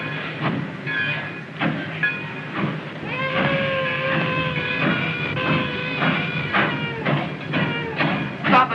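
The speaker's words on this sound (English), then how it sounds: "Stop the train immediately." A train in the 1933 film Speak Easily runs with rhythmic clattering and squealing metallic tones, loud and close, under a steady rumble.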